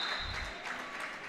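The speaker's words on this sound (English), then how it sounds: "the ref just clapping there" A referee claps his hands during a girls' high school basketball game late in the fourth quarter, a brief run of sharp claps over steady gym crowd noise, moderately close.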